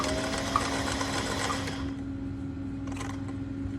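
A sewing machine runs steadily, stitching a wide zigzag with blue thread, its fast even whir close and loud before easing down partway through.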